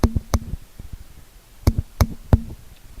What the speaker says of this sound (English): she heard that knock again at her window